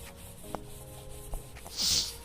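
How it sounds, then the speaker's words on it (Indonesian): Brief scraping and rubbing strokes of sandpaper on a dented car body panel, a few scattered passes with a louder hiss near the end, preparing it for body filler. "Kita amplas agar nanti dempul menempel sempurna ya"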